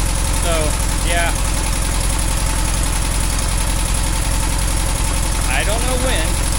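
A Volkswagen Beetle engine idles with a steady, loud rhythmic chug throughout, while a few brief bursts of voice or whirring sound briefly over it near the start and end.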